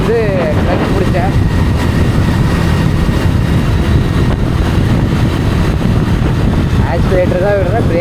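A motorcycle rolls along at night in sixth gear with the throttle closed, its engine a steady loud drone buried in heavy wind rush, with a voice talking over it at times.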